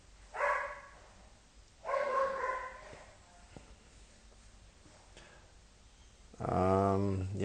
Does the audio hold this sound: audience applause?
no